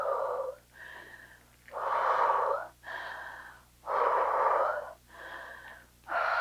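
Heavy, labored breathing after a hard HIIT workout: loud, raspy wheezing inhales and exhales alternate in a steady rhythm, close up with no talk.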